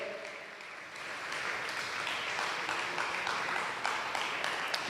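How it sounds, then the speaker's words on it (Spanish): A church congregation claps their hands together in praise, a dense, steady wash of applause that holds for several seconds at moderate volume with no talking over it. "Dele fuerte las palmas al Señor."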